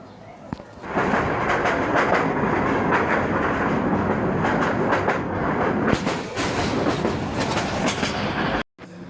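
A passenger train runs through countryside between Mymensingh and Kamalapur, its loud continuous rumble and rhythmic clickety-clack of wheels on rails heard from inside the carriage, swelling briefly louder before a short cut near the end.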